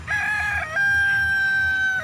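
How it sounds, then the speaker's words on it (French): A rooster crows loudly and close by in a farmyard near a hotel in Bali, one long sustained cock-a-doodle call with a short break early on. "Merci le coq."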